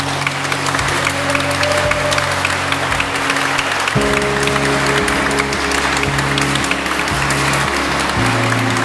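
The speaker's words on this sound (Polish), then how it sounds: "okażmy to gorącymi oklaskami" Wedding guests applauding during a ceremony at a hotel, a dense, steady clapping from a crowd throughout, with sustained organ or music tones underneath.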